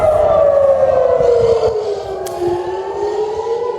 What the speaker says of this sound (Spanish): Este es el sonido de las sirenas en Tel Aviv,